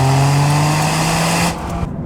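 A Toyota GR Corolla engine revving hard through its exhaust between 4,000 and 6,000 RPM, a loud steady drone close by that holds for about a second and a half, then drops away and fades.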